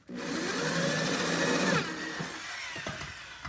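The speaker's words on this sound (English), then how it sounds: "I'm going to drill out a 3/8 inch hole on each one of the fronts" A power drill bores a 3/8 inch hole through the wooden front of a duplex bat house, a loud whirring grind lasting nearly two seconds, then dropping away to quiet handling clicks and knocks.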